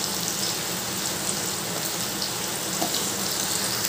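Gathi kochu (taro) pieces fry in hot oil in a pan, giving a steady, even hiss and crackle that holds at a constant level throughout, close and unbroken.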